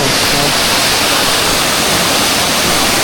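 Khlong Kratha waterfall in Thailand during the rainy season, swollen with water: a steady, dense, loud roar of falling water that stays unbroken throughout.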